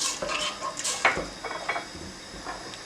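A spoon scrapes and clinks against a cooking pot while stirring tomato paste into water, with light irregular metallic knocks and soft sloshing at close range.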